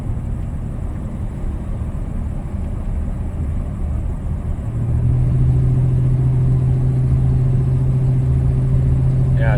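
A 1994 Chevy S10 pickup with a freshly rebuilt automatic transmission cruises along, steady engine and road drone inside the cab, a low hum settling into a stronger, even tone midway with no talk.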